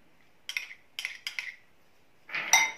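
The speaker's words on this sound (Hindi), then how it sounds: "इन सबको भी अच्छे से मिक्स कर लेंगे।" A spoon clinks against a bowl while melted butter, grated garlic and coriander are mixed, three or four quick sharp taps followed by a longer scraping clatter, close and quiet, no voices.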